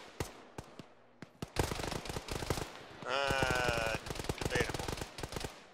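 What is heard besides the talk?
gunfire from a big gun in a video game (ShackTac)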